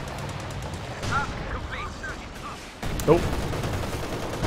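A Stuka rocket barrage in Company of Heroes 2 lands as scattered distant rocket whooshes and muffled impacts amid battle noise, with a brief spoken exclamation partway through.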